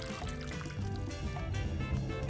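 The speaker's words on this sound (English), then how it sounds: "How about we add some warmer water?" Water pouring into a small toy pool playset, a steady trickling, splashing fill that is faint and continuous for a couple of seconds.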